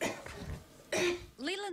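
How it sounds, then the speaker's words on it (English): A patient coughs loudly several times in quick succession during a medical checkup for a neuromuscular disease. The harsh bursts are close and distinct, with a brief voiced sound between them. "Cough for me three times loud."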